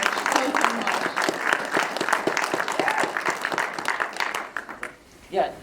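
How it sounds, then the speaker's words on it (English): Audience at a film premiere Q&A applauds steadily in dense, continuous clapping with some voices mixed in, tapering off near the end. "just another round of applause for Edgar, because he's done so much, so much."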